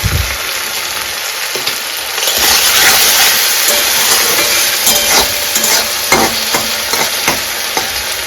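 Tomatoes, green chillies and salt frying in a pan, giving a steady close sizzle and hiss with scattered stirring clicks that swell louder after the first couple of seconds.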